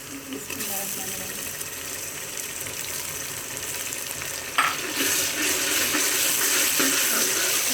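Steady frying sizzle of garlic ginger paste in oil in a pan with a brief clatter partway through, a constant crackling hiss that grows slightly louder toward the end.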